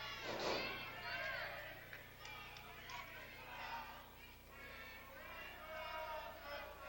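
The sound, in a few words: wrestling crowd singing good night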